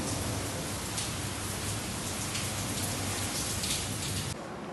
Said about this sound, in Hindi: बहुत ज़ोरों की बारिश हो रही है, बहुत तेज़ बारिश है